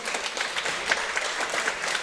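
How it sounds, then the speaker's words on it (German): Crowd applause fills the arena at the end of a fight, a steady dense wash of clapping with a few sharper claps standing out, loud and continuous with no talk over it. "ein riesen Applaus hier für beide Jungs."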